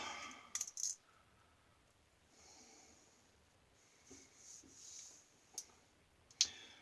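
A safety razor being loaded with a Wizamet Super Iridium blade, a few sharp metallic clicks near the start and again later, with soft handling rustles in between, close and quiet.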